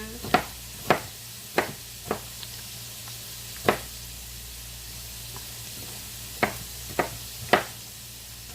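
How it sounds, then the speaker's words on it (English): Rough-chopped food fries in a pan with a soft, steady sizzling hiss. Occasional sharp knocks and clatters from utensils against the pan break through at irregular intervals. "it's starting to get a better sizzle"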